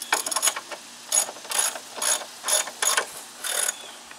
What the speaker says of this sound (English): we're going to use the torque wrench on it